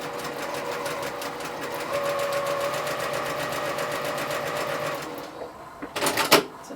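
A sewing machine runs a quarter-inch seam on fabric: a fast, steady mechanical stitching rhythm close by for about five seconds, then it stops, leaving a few handling clicks and knocks.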